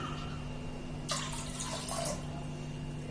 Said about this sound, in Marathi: अर्धा पेला पाणी ओतते याच्यामध्ये